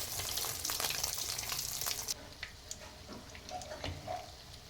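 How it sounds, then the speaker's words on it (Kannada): Leftover rice bonda, coated in egg and a bread layer, frying in hot oil, giving a steady, close sizzle that is dense at first and then settles into a quieter bubbling crackle. "ಈಗ ಎಣ್ಣೆ ಆಲ್ರೆಡಿ ಕಾಯ್ದಿದೆ. ಸೊ ಈಗ ಇದನ್ನು ಫ್ರೈ ಮಾಡೋಣ."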